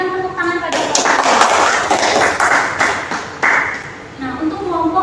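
Classroom applause for the best group during a microteaching lesson, a burst of clapping from several people rising and fading over a few seconds, with a voice speaking at the start and end.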